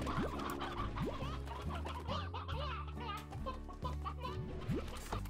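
Chickens in the Slime Rancher video game cluck repeatedly over a busy, loud game soundtrack with rising tones, the calls steady and close throughout.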